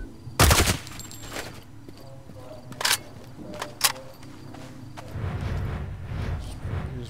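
AK-47 gunfire in Sniper Ghost Warrior 3 cracks out in a loud burst at the start, followed by a couple of sharper single shots and then a rumbling, rustling stretch of movement.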